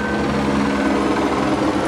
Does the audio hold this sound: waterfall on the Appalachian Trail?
no